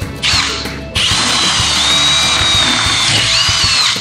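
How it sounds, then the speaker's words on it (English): A power drill bores through the wooden deck board of a SHREDmill treadmill, a loud, steady high whine after a brief start and restart, close up with no talking. "that will make your drill go through much easier if you aren't used to drilling"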